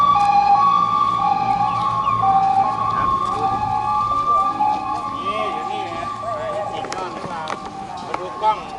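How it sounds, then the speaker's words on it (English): An ambulance siren wails with steady rising and falling tones as it passes by on a street in Nakhon Si Thammarat, southern Thailand, while voices and street noise carry underneath. "Look, as the ambulance goes by."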